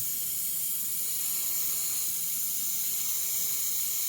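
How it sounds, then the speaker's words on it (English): A continuous airy hiss of an airbrush spraying Createx illustration paint onto synthetic paper runs steadily throughout, fairly close and even, with no voices. "I can control that by just spraying lighter."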